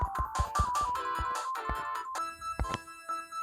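Bright chiptune music from the Sonic the Hedgehog sound test, a bouncy melody over punchy drum hits at a steady upbeat tempo, clear and up front.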